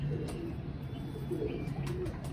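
Soft pigeon cooing from a large, round-bodied yellow-eyed pigeon repeats a few times in low, throaty phrases over quiet background hiss.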